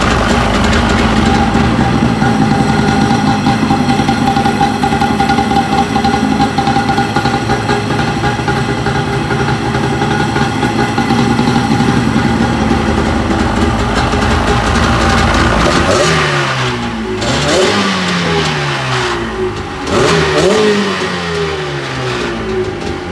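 A rebuilt Sea-Doo GTS watercraft engine runs loud and steady close by, out of the water, then revs up and down in sweeping surges near the end.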